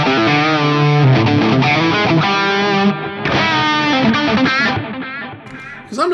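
Electric guitar through a JCM800-style amp preset on an FM9 with a quarter-note echo, playing loud, sustained distorted chords and notes whose repeats trail behind each phrase, continuous with a brief dip and a fade at the end.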